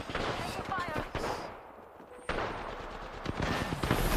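Loud rapid gunfire in the battle royale game Apex Legends, bursts of automatic shots cracking close by with a short lull in between, while players talk excitedly over it.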